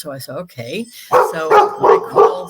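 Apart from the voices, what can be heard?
dog barking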